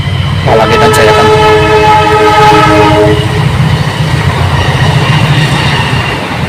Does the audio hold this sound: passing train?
yes